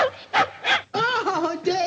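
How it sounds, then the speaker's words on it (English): Dog giving several short yips and barks in quick succession, close and fairly loud, with brief whimpery tones between them. "she's a wonderful dog"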